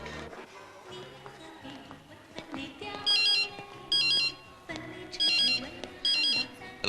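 A phone ringtone chirps in four repeated bursts of bright electronic beeps, rising over a musical background with faint voices underneath, in a Malayalam comedy scene.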